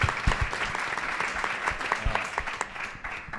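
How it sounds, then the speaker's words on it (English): A crowd applauds in praise of the Treefort music festival, a fairly faint patter of scattered claps with a few sharper hand strikes, lasting about three seconds at a distance. "we should just give Treefort a round of applause right now"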